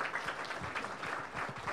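Applause from a conference audience at a Tokyo briefing on the COP22 Marrakech climate talks, a faint, dense, even patter of many hands clapping at a distance with no voices on top.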